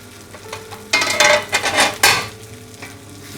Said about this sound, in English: just give it a stir. You don't want the onion or the meat to be burning to the pan